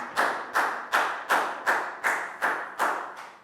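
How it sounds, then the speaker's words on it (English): Eight crisp, evenly spaced claps in unison from a class cheering a student named Pat, each sharp and close with a short decay, like a rhythmic round of applause in a classroom lesson. "Big round of applause for Pat"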